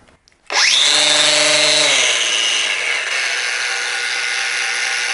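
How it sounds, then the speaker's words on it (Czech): A Bosch GWX 18V-15 SC cordless angle grinder spins up with a sharp whine at about half a second, its pitch climbing quickly, then runs loud and steady on its own, the tone settling slightly lower near the end. "Uhlová bruska má přednastavený 3 druhy otáček"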